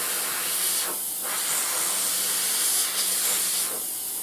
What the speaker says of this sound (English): we're going to punch a hole in the can to bleed off the pressure